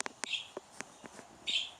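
A pet budgerigar gives a pair of sharp, shrill squawks amid scattered clicks and light chirps, fairly faint and close by.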